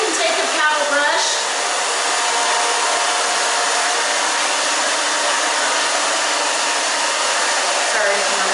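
A hair dryer blowing on a haircut, a loud, steady whooshing roar close by that runs throughout with only slight shifts as it moves, while a person talks briefly under it at the start.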